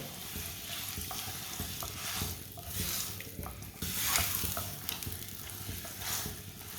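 Dates cooking and being stirred in a pan for a couple of minutes, giving a steady close sizzle with soft scraping stir strokes throughout, no voices.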